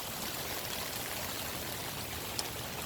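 Floodwater flowing through a blocked yard on Mulberry Street, trapped and backing up into a room instead of draining to the front yard, giving a steady, fairly quiet rushing wash that continues evenly throughout.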